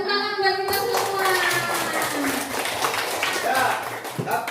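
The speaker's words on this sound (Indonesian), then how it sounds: "tepuk tangan buat kita semua" A group of children applauds during a first-aid training session at an elementary school, a burst of mixed hand clapping running under continuous talking voices at moderate loudness.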